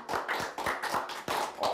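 Applause for a lecturer on a health talk show, heard as a short run of rhythmic, fairly faint clapping in regular beats, like a few people clapping together.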